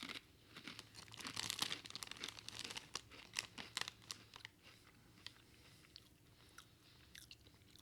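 Lay's crinkle cut potato chips, Do Us a Flavour 2015 edition, crunched and chewed close up, with steady irregular crunches and bag crinkling throughout and no talking.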